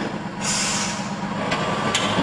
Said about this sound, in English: there's nothing quite like a ride in a fire truck